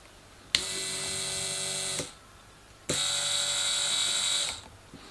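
A small electric motor drives a homemade power feed for a lathe, running in two steady bursts of about one and a half seconds each, with a silent pause between them. The whine is loud and close and carries no talk.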